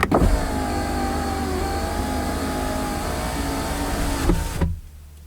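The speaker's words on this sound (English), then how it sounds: "then fully close the front windows" On a Skoda Superb Mk2, the electric front windows whir shut with a steady motor hum, then a short thunk as the glass seats, followed by near silence.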